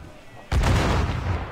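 A ship's cannon booms in Assassin's Creed IV Black Flag, one sudden heavy blast after near silence that rumbles on as a short, loud roll.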